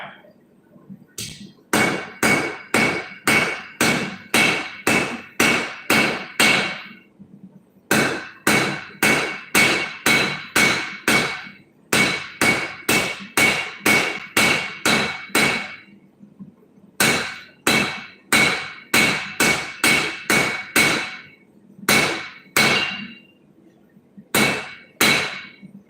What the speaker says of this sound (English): So far, I never used this hammer before.